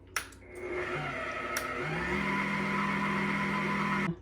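An electric mixer or blender whirs through pumpkin muffin batter made from spice cake mix, canned pumpkin and a cup of water, starting with a few clicks and bumps, then running at a steady, close motor drone before stopping abruptly.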